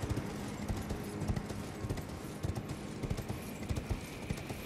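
A horse's hooves clip-clop steadily on the ground in Elden Ring Shadow of the Erdtree: a quick, continuous galloping rhythm, close and even, under constant ambient game noise.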